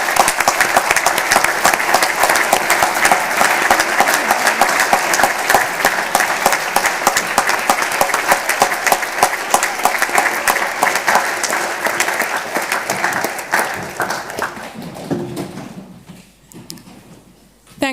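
Audience applause fills a closing ceremony hall for committee delegates, a dense sustained roar of many hands clapping for about fourteen seconds before thinning out and fading to near quiet at the end.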